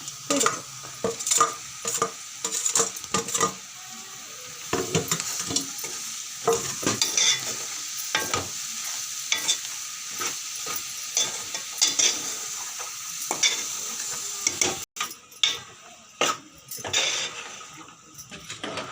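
Shark fish fries with onions in a pan, a constant sizzle broken by frequent sharp scraping stirs and utensil knocks, close and busy throughout.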